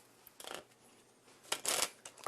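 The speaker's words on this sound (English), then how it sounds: "Yeah, just shuffle them together." A deck of playing cards being shuffled together by hand, two bursts of riffling and flicking close to the mic, the second longer and louder, with quiet gaps between.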